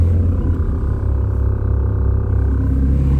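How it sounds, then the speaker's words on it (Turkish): A low, steady mechanical drone from an air compressor runs throughout, a constant motor hum with a slight pulsing texture, close and continuous. "Babam kompresörü çalıştırmış."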